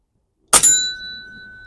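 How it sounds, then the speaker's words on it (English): A bullet strikes a metal bell target on an outdoor shooting range, giving one sharp, loud metallic clang with a quick second hit, then a clear ringing tone that slowly fades out over more than a second. "Okay, that's the bell."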